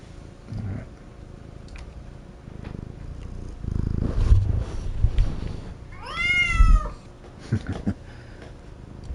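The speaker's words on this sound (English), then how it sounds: "It's like stereo purring." A pet cat purrs steadily close by, with a drawn-out rising-and-falling meow breaking through midway, alongside a second electronic toy cat purring, over quiet room noise.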